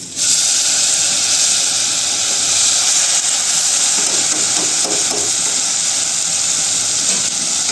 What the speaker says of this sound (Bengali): এখানে আমি এবার লাউ দিয়ে দিচ্ছি